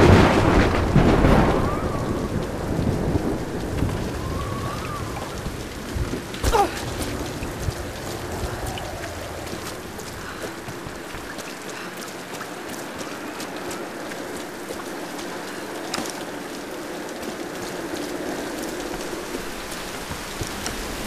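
Steady rain pours in the Tomb Raider video game, with a loud thunderclap near the start and sharper cracks later. A boat-like low rumble sits under the constant hiss of falling water, and nobody speaks.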